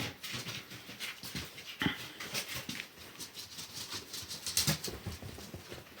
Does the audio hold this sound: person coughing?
no